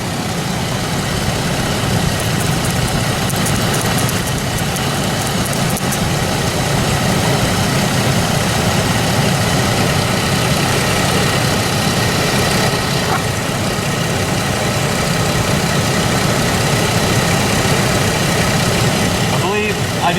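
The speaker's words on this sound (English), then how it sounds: "The engine's running a little bit rough, and I can sort of hear like a sucking sound" A 1999 GMC Jimmy engine idles rough under the hood, a continuous close, loud rumble with an uneven pulse and a constant hissing, sucking undertone from a vacuum leak.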